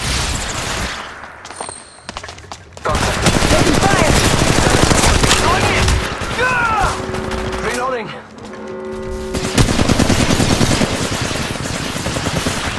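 Sustained automatic gunfire in a video game rattles loud and close in long bursts, broken by short pauses, with in-game voices and bleating, whining effects heard over the shooting.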